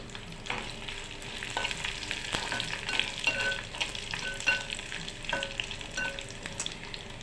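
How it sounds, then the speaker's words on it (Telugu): Dried red chillies frying in a pan crackle and sizzle steadily, with repeated scraping and clinking of a stirring spoon close by and no talking. "ఎండుమిరపకాయలు కూడా వేస్తాను కదా."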